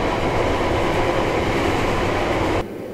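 A JR Hokkaido limited express Hokuto train to Hakodate rumbles along loudly and steadily with a broad roar, then cuts off abruptly near the end.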